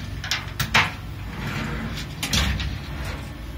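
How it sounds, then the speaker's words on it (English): Doors of a Bruker D8 X-ray diffractometer slide open with a couple of short clacks and a rolling scrape, close by over a low room hum. "we can open up these doors."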